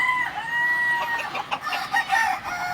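Chickens on a poultry farm cluck and crow close by in a loud, continuous stretch with no talk over them.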